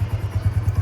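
A small four-stroke motorcycle engine runs in a steady, rapid low thump, close and even in level, with a slight mechanical clatter over the pulsing exhaust.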